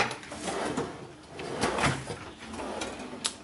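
A kitchen drawer holding cutlery slides open or shut with a short clatter of utensils inside an apartment kitchen, close by and heard alone without talk.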